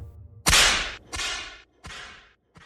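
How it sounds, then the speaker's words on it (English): The cartoon whip-crack effect from Johnny Test snaps three times in a row, each loud crack trailing off in a bright swishing decay, with a faint fourth tick at the end. "Obviously, it's the infamous Johnny Test whip crack."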